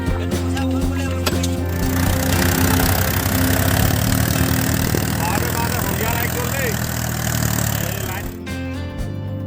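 A tractor engine idles with a low steady rumble while the tractor sits stuck in a muddy village field, with excited voices talking over it for most of the stretch.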